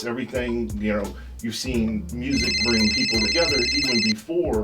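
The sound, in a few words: mobile phone ringing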